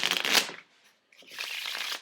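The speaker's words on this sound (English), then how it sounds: "Shuffle the cards." A deck of real playing cards being shuffled, two quick riffling bursts separated by a short pause, close and crisp with no talking.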